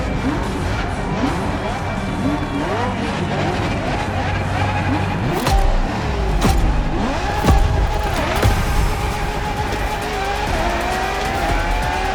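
A Ferrari LaFerrari hybrid supercar races in the video game The Crew Motorfest, its engine roaring and revving with repeated tire squeals and skids over about twelve seconds, while a voice talks over it.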